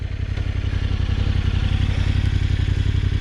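A Husqvarna 701 and a Yamaha Tenere 700 ride together, their single and twin-cylinder engines making a loud, steady, close rumbling thrum with a fast pulsing beat and no talk.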